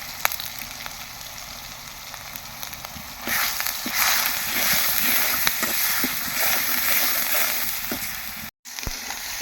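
Spices and raw masala paste frying in a pan for a fish and potato curry, a steady sizzle that swells louder partway through, with occasional stirring clicks and no talk.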